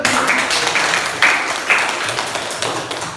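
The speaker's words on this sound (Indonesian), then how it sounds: "tepuk tangan dulu" Schoolchildren in a classroom applaud, a loud nearby patter of many hands with a few sharper accented claps standing out at intervals.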